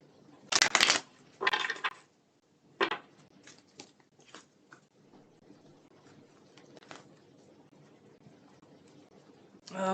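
Tarot cards being shuffled by hand, heard as a few crisp riffling bursts close up followed by softer scattered card flicks and handling sounds in a quiet room.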